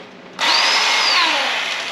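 A chainsaw kicks on at about the 0.4-second mark and runs steadily, loud and close, with a high whining motor tone and no talking over it.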